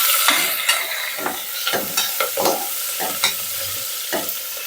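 Onions fry in a pan with a steady close sizzle, broken by repeated scraping and clacking of a spoon as they are stirred, roughly one stroke every half second, with no talking.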